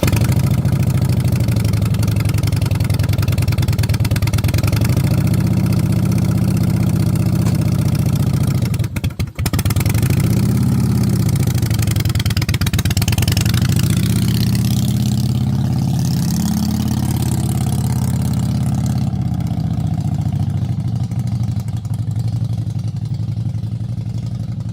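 A custom-built Harley motorcycle engine idles with a steady low rumble, stumbles and cuts out briefly, then catches and keeps running before fading lower toward the end, heard close with no talking.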